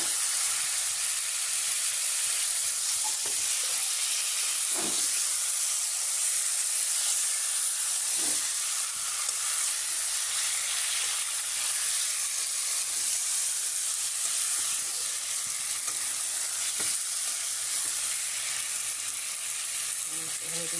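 Pangas fish frying in a pan, home-style, with a long, steady hiss of hot oil throughout and occasional soft knocks and scrapes of stirring, heard close and without talk.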